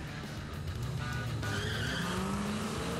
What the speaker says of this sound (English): Fast cars racing at white-knuckle speeds.